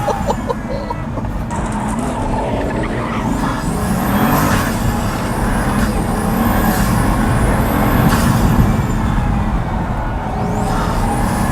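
Pagani Huayra engine pulling hard under acceleration on the road, a loud, continuous roar heard from inside with rising whistling turbo tones sweeping above the rumble.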